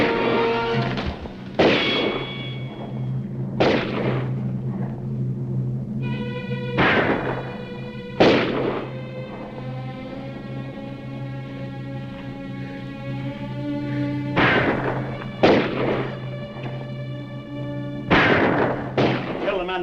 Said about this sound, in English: Keep shooting. That's all we can do.